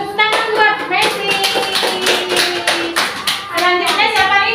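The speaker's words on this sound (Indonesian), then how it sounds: "Tepuk tangan buat Messi." A classroom of children claps hands together in a lively, rapid burst of many overlapping claps lasting several seconds, with young voices calling out over the applause.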